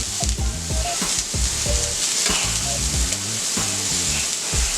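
Bread toasting in a hot pan for a steak sandwich, a steady close sizzle with occasional scraping, over a loud background of tonal music.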